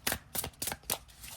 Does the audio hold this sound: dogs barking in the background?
no